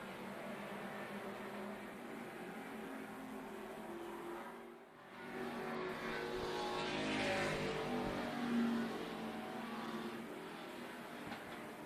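Stock cars in a NASCAR Weekly Series race at Tucson Speedway roar past at a distance, their engine noise holding steady, dipping briefly, then swelling again as the pack runs side by side.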